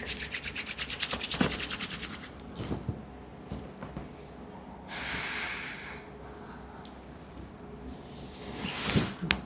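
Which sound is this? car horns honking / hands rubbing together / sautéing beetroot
hands rubbing together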